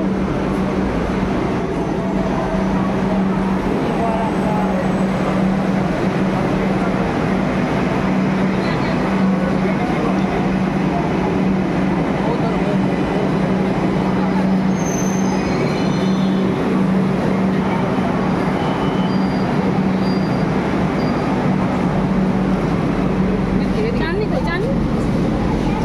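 A metro train pulls into a station platform, giving a loud, steady rumble and hum that fills the whole stretch without a break.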